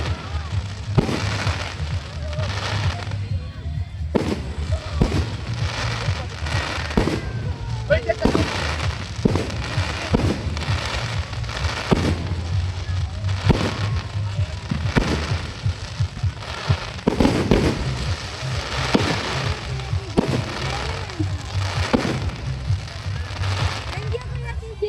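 A fireworks display at the Cagayan Valley capitol, with repeated loud bangs and crackling bursts at irregular intervals over a steady crowd murmur, and people chatting nearby.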